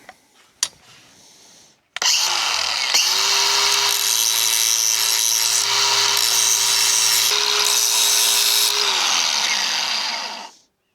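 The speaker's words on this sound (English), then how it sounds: "I got to grind it so we can get a good weld on it." An angle grinder cuts a V-groove into a Craftsman GT5000 mower deck ahead of welding: a few clanks, then a loud, sustained high grinding whine for about eight seconds that cuts off abruptly.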